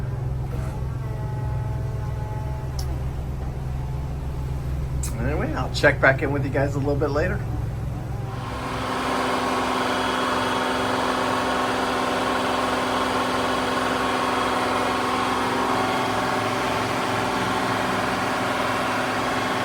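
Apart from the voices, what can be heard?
engines of 65-foot Hatteras LRC yacht running at sea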